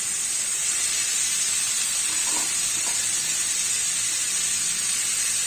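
Mushrooms sauté in a pan for a mushroom masala semiya kichadi, giving a constant, even hiss of sizzling oil with a couple of faint stirring touches and no talk.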